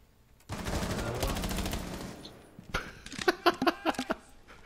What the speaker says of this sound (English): It's like four people shooting at him.